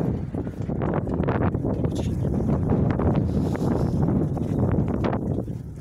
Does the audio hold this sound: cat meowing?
no